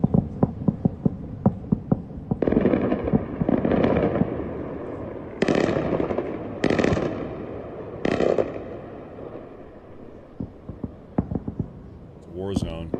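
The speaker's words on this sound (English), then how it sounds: "So Iran is trying to ward off these Israeli airstrikes." Air defense fire over Iran during Israeli airstrikes: distant thuds and sharp pops in uneven bursts, some rapid and repeated, with a voice talking near the end.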